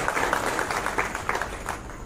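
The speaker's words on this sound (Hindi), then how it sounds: "उसके लिए आप तालियों से उनका स्वागत करिए" An audience at a public meeting in a garden venue claps to welcome the police department, a lively crowd applause with distinct individual claps, fairly close and steady, with no speech over it.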